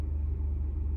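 Inside a moving car, a steady low engine and road rumble drones evenly throughout, with no voices.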